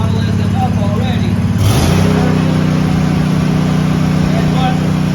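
An Ahrens zero-turn mower engine runs at a steady idle, then rises sharply in pitch as the throttle goes up and settles into a louder, even higher-speed drone, close and continuous.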